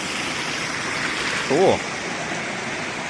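Water from an underground spring flows out of the ground near a waterfall, a steady broadband rush throughout, with a brief bird-like chirp and a short spoken word over it.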